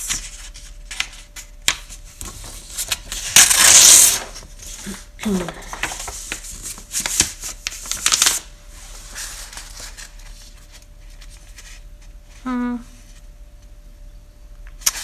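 Paper being handled and crumpled during crafting, scattered crinkles, rustles and brief crunching bursts close by, with someone speaking quietly at moments.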